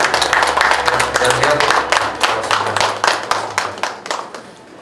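An audience claps loudly to welcome the Sopoong Ventures CEO as he comes on for a keynote at a local value event. The applause is steady and then fades, with a man's greeting over it near the end.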